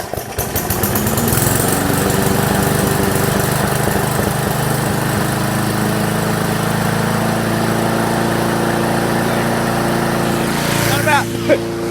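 A small petrol engine runs steadily and loudly after refuelling, with a lawn-mower-like drone that holds for about ten seconds before a brief change near the end.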